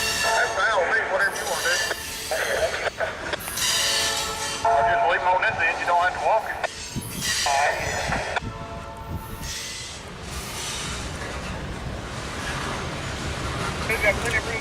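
Louisiana Southern freight train rolling forward during interchange operations, a low rumbling drone of rail cars under radio chatter and voices, with a tonal horn-like note early on.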